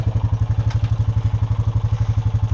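A Honda Rancher 420 ATV engine chugs steadily at low speed through muddy ruts, with a fast, even pulsing exhaust heard up close.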